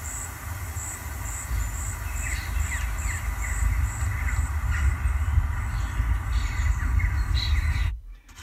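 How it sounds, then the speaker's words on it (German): A lively forest soundscape of chirping birds, cawing crows and insect trill over a low rumbling bed, played through the speakers inside a Kia Soul EV, steady throughout before cutting off abruptly at the end. "Lebhafter Wald."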